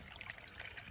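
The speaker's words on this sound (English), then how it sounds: "I can contain this huge amount of water, and it runs off the end here" Spring water spills off the edge of a hand-dug pool in a gentle, continuous trickle, soft and close, with light splashy flicker and no voices.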